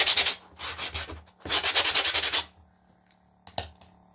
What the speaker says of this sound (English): Now I only have this one little edge to sand.